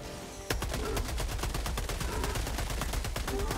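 Rapid automatic gunfire in Helldivers 2 against bugs, a sustained fast burst of loud shots beginning abruptly and rattling on continuously with no speech over it.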